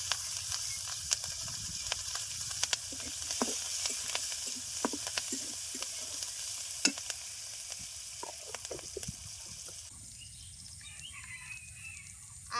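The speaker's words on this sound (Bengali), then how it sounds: "মাছ ভাজার তেলে পেঁয়াজ আর কাঁচামরিচ দিয়ে দেব।" Onion and green chilli fry in oil left over from frying bata fish, a steady close sizzle with crackling pops and faint bird calls in the background, no talking.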